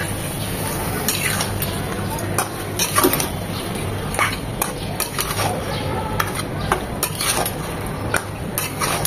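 A spoon scrapes and clinks against a pot again and again while beef is stirred with spices for beef rezala. The metallic strokes are loud and close over a faint sizzle, and a voice talks underneath.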